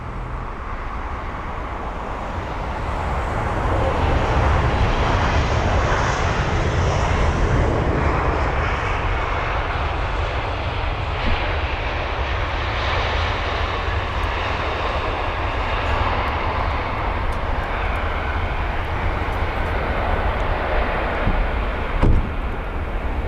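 An Airbus A320 jet from Marseille at London Heathrow, its engines roaring steadily and close for a sustained stretch, swelling slightly and holding a broad continuous rumble without talk.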